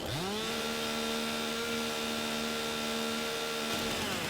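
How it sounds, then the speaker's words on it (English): A chainsaw from Farming Simulator 22 revs up and holds a steady, loud motor whine for about four seconds as it cuts a tree, then cuts off abruptly near the end. "I can activate the chainsaw"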